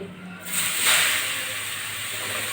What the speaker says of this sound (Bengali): এবার আমি পেঁপেগুলো দিয়ে দিচ্ছি